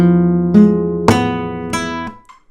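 Flamenco guitar plays a Soleá ending: a few plucked notes ring out with an added grace note, spaced strikes each decaying cleanly, close and alone.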